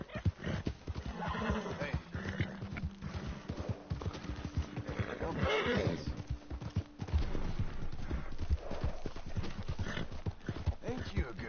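Horse hooves clop steadily while a horse neighs in the video game Red Dead Redemption II, with someone speaking softly over the sounds.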